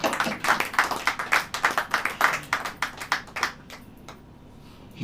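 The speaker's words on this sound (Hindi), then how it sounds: "ताली बजाइए" A church congregation claps in a quick, steady rhythm of sharp, close hand claps for several seconds, then the clapping thins out and stops, leaving near silence.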